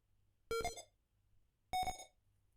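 Two separate electronic beeps from a ZX Spectrum BASIC-style game recreation inspired by Atic Atac, each a bright buzzy tone about a quarter second long, clear and loud above a low hum, with a pause between them.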